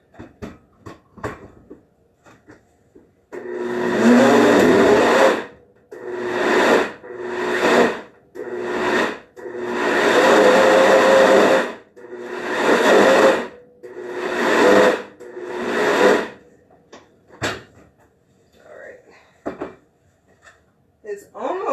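A blender grinds raw chickpeas for hummus in a series of loud bursts, starting and stopping repeatedly over about fifteen seconds, with short pauses between runs.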